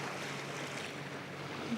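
Sailboat motoring gently through calm water on a windless day, engine on, with a soft steady wash and faint wind hiss at low level.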